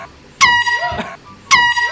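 Air horn blasted in two short, loud, piercing honks about a second apart, each harsh and brassy and cut off quickly, with faint background noise between them.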